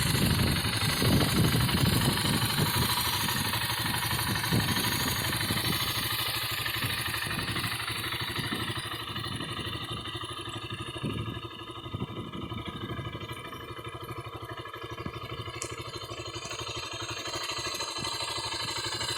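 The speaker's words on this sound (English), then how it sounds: "let you hear the idle here of this 2007 BMW Cross Challenge" A 2007 BMW G650 Xchallenge motorcycle idles outdoors, its single engine putting out a steady, close, chugging rumble with a fast, even pulse that holds for the whole stretch, with no voices over it.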